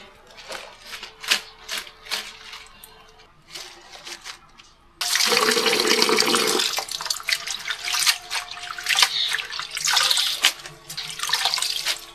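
Fish rinsed by hand in a sink, with clicks and clatter at first, then a tap turned on full to a loud gushing stream, followed by splashing, rubbing and dripping water.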